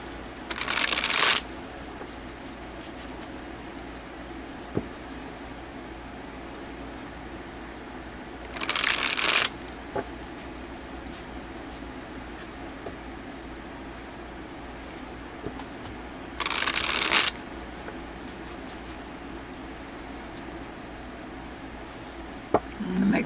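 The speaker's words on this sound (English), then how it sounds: "Make sure they're getting shuffled." A deck of cards is riffle-shuffled three times, each a short crisp burst about a second long, spaced several seconds apart over a quiet room hum.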